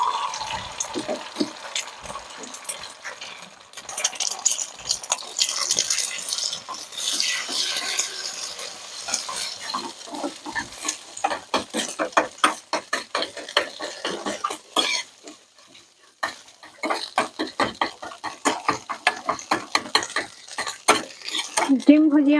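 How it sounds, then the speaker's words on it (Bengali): Beaten egg frying in hot oil and being stirred: a steady sizzle under repeated scraping and clinking of a spatula against the pan, close and busy throughout, with a short lull near the middle. "ডিমটাকে আমি বাটি ফেটে নিয়েছি, এবার আমি গরম তেলের মধ্যে দিয়ে দিচ্ছি।"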